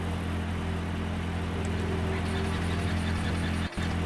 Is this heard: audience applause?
no